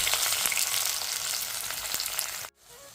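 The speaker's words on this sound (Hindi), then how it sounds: "तो इस सब चीज़ का जो है इसमें तड़का लगने वाला है।" Onion, tomato and green chili sizzle as a tempering in a hot pan, a loud, steady crackling fry that cuts off abruptly near the end.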